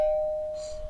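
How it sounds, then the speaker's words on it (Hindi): A household doorbell gives one steady, sustained electronic tone, moderately loud and close, with no voices over it. "जाने में भी घंटी बजती क्या?"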